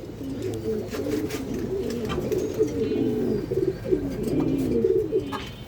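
Many domestic pigeons coo steadily in a loft, overlapping low burbling calls forming a continuous chorus at moderate volume with occasional louder notes.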